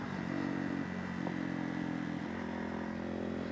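A supermoto motorcycle being ridden hums steadily at cruising speed, its engine drone constant and moderately loud, mixed with wind and road noise throughout.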